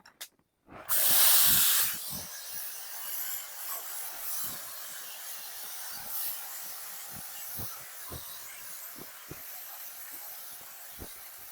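Spice paste hits hot oil, sending up a loud burst of hissing sizzle that settles into a steady crackle dotted with small pops and spits.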